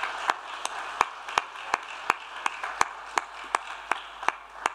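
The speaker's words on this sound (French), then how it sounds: "Est-ce qu'on peut les applaudir, tous ces enfants?" A church audience applauds the children with sparse, sharp individual claps at an uneven rhythm over a soft background murmur, fairly close and moderately loud.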